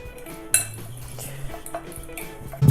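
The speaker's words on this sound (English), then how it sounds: "And mix it all well." Deviled egg yolk filling for Polish Easter faszerowane jaja is mixed in a bowl with a utensil, giving light clinks and scrapes against the dish, with one sharper tap early on and a louder knock at the end.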